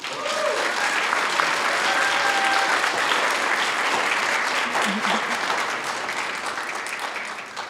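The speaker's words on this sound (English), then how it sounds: "Give them a round of applause." Steady applause from a room full of people at a city council meeting, dense clapping that holds at an even level throughout, with a few faint voices underneath.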